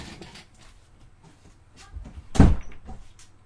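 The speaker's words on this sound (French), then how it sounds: "je vais fermer la porte." An indoor door swung shut with a single sharp thud, loud and close, rising out of a quiet room background.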